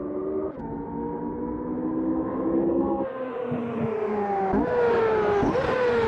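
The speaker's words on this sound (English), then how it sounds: "I wasn't revving all the way up to the red line, so it's got a different sound to it" Race car engine in the Automobilista 2 racing game, revving and climbing in pitch through several gear changes, loud and close with sharp drops at each shift, no talking.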